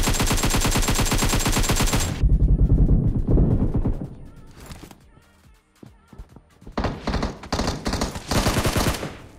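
Automatic gunfire in PUBG Mobile comes in fast bursts, loud and close, stopping briefly before another string of rapid shots. A quieter gap with scattered sounds sits between the bursts.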